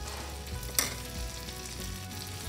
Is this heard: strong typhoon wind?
no